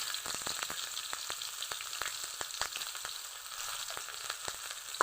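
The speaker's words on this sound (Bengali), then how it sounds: "তেল গরম হয়ে গেছে, তেলের মধ্যে দিব পেঁয়াজ কুচি" Chopped onion sizzles in hot oil in a pan, a soft steady frying hiss broken by many quick crackles and pops, fairly quiet and close with no talking.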